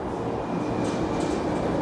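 A metro train passes at Tai Shui Hang Station in Hong Kong, a fairly faint, steady rolling rumble with light wheel noise over a short stretch. No voices are heard.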